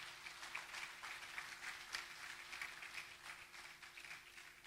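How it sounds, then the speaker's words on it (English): Conference audience applauding a speaker at a healthcare association's annual meeting in a hotel hall: steady, faint clapping from a crowd, fairly distant and sustained throughout. "I think he deserves another round of applause."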